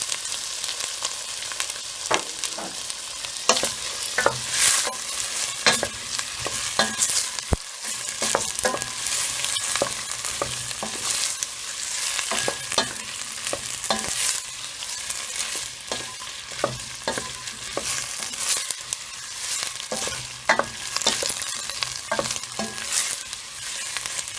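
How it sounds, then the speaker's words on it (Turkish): Diced potatoes fry with a steady, crackling sizzle as a spoon scrapes and stirs through them again and again, close and loud. "Şimdi küçük küçük doğradığım patatesleri atıyoruz içine."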